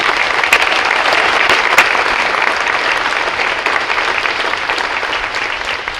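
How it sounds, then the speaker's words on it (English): A school concert audience applauds the advanced treble choir with dense, sustained clapping that stays loud and close throughout, easing slightly toward the end. "Could you give them one more round of applause"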